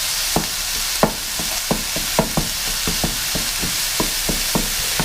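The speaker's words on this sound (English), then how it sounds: "Continue stirring and chopping." Sausage sizzles steadily in a frying pan with grease while a utensil stirs and chops it, making sharp irregular taps and scrapes against the pan.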